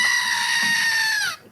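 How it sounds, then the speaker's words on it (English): A screaming goat sound effect plays once, a loud, strained, bleating scream held for over a second before cutting off abruptly, with no voices. "I'm going to play the Screaming Goat for you guys now."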